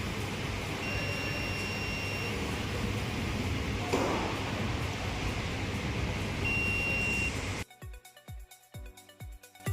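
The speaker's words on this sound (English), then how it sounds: "If you hear a beep sound, the fuse is good." Digital multimeter in continuity mode beeping as its test leads touch both ends of a car fuse: a steady electronic tone runs for several seconds, then stops, leaving a few short clicks and taps.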